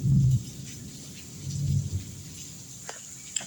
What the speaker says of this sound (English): Rain and shit.